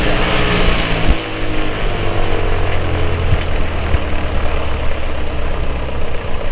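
A Carbon Cub aircraft engine idles steadily below 1,000 rpm after its run-up, a loud, continuous low droning rumble heard up close with no talking.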